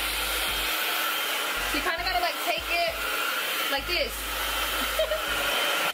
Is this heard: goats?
no